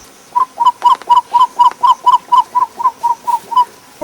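A wild bird on a Ugandan safari calls in a rapid, even series of about fifteen clear, hooting whistled notes, loud and near, with no voices over it.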